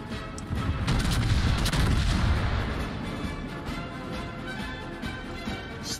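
Battleship secondary guns firing in World of Warships, a dense barrage of booming shots and rumbling blasts, loudest early and continuing steadily without speech.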